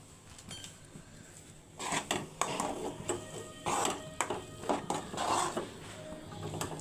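A sweet mixture of milk powder with cardamom powder is stirred fast in an iron pan, giving a busy, repeated scraping and clatter against the metal over a low background hum.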